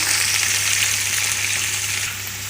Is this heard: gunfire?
no